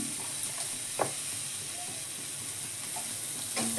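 Chopped garlic and onion frying in a hot pan, a continuous soft sizzling hiss with a couple of brief knocks from stirring, heard without talk.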